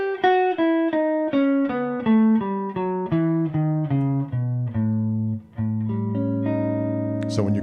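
Guitar running down a Lydian dominant scale with a sharp eleventh and flat seventh, a steady sequence of single plucked notes descending and then sustaining low, clear and close, ending with a brief noisy scrape.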